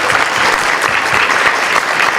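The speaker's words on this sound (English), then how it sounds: "if I can give my littlest kindergartners another round of applause for being so brave" An audience at a school board meeting claps for young kindergartners in a brisk, dense burst of applause that holds steady for its brief length.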